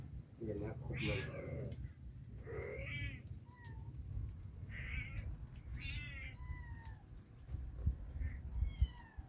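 A kitten gives a series of close, repeated meows, some drawn out and wavering, over a low background rumble, with occasional soft voices.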